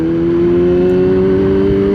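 A big cruiser motorcycle engine rumbling steadily close behind a rider on the road, a loud continuous low drone with a sustained hum and no talking.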